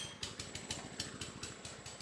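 A rotary lawn mower engine runs just after being started by pulling the starter grip, a rapid, even chugging putter repeating several times per second, fairly quiet and steady.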